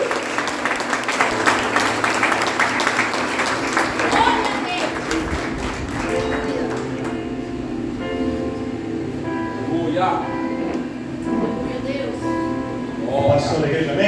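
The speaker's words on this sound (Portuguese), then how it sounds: "Aplauda o servo de Deus nesse momento." A church congregation claps during an Easter service, with dense, loud applause at first that thins out. Voices and other sounds from the room blend in, and speech is heard under the clapping toward the end.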